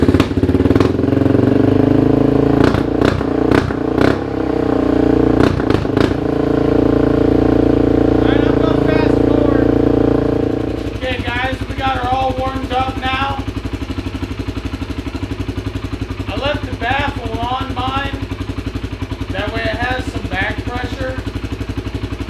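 A Kawasaki Brute Force ATV engine runs through its exhaust, first revving in short bursts, then settling into a steady warmed-up idle, with someone talking over the engine in the later part.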